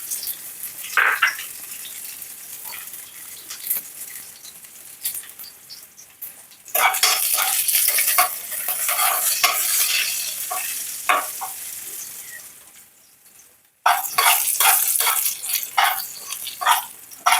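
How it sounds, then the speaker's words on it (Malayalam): Onions and dried red chillies hit hot oil with popped mustard seeds, bursting into a loud sizzle that flares twice, with stirring and pan clatter throughout and no talking. "നമുക്ക് ഉള്ളിയും ഉണക്കമുളകും ഇട്ട് കൊടുക്കാം."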